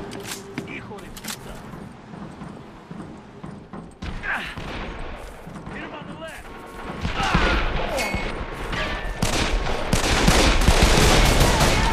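Gunfire in the video game Call of Juarez: The Cartel on PS3, bursts of shots and rapid fire building to a dense, loud barrage, mixed with shouting voices and game sounds.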